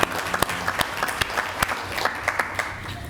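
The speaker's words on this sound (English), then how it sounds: "I think we need a round of applause for the work that." A round of applause breaks out at a school board of education meeting, a steady wash of clapping from a roomful of people with a few sharp, close claps standing out, continuing for several seconds.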